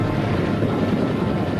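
Helicopter ferrying the Apollo 11 astronauts from their capsule after splashdown in the Pacific Ocean southwest of Hawaii, a steady, loud rotor and engine drone filling the clip without pause.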